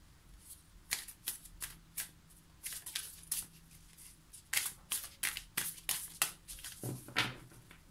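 A deck of Rumi oracle cards is shuffled by hand in a quiet room, a rapid series of crisp riffling snaps and flutters in uneven bursts, close and clear with no talk.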